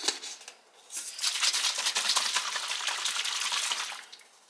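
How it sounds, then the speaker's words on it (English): A small splash of water pours into pizza sauce in a pot for about three seconds, a close, steady hissing trickle that fades out at the end. "I'm going to add in a little bit of water"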